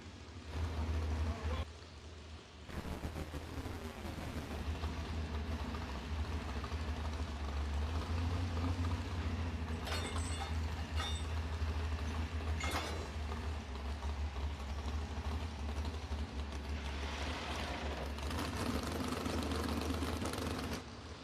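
Tractor pull truck named the Irritator at a Kansas City truck and tractor pull, its engine roaring loud and steady throughout the run, with an announcer's voice over the top.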